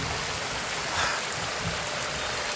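Steady rain from a strong storm in Guatemala, a dense even hiss with no breaks, moderately loud and close, no voices.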